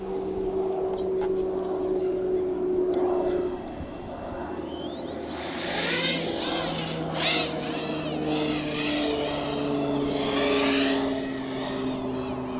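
An HGLRC Batman220 5-inch racing drone spools up and flies, a high buzzing whine of props that rises sharply partway through and then warbles with throttle changes, loud and close.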